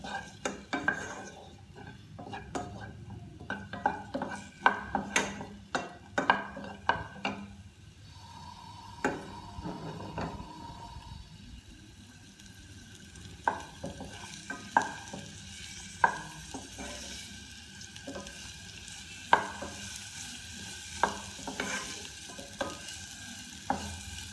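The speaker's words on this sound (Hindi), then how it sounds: "अब मैं इसमें अनियन डाल दूँ। इसको हम थोड़ा सा फ्राई कर लेंगे।" Chopped onion fries in two tablespoons of oil in a pan while a spoon stirs it, sharp clinks and scrapes recurring in an uneven rhythm over a soft continuous sizzle, close and without speech.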